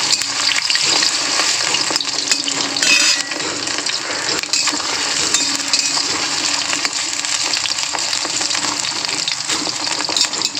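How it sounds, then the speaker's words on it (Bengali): Soybean chunks deep-frying pakora style in hot oil for chilli soybean, a loud, close, continuous bubbling sizzle with scattered crackles and a few light clinks, no voices. "আমি নর্মালি পকোড়ার আকারে সয়াবিনগুলো ভেজে নেব"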